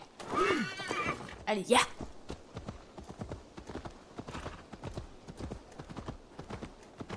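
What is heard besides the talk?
pony neighing and trotting in Assassin's Creed Valhalla video game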